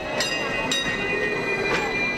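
Rumbling Hong Kong tram rolling along tracks with high metallic wheel squeals and rhythmic clacks, close and steady, with faint voices underneath.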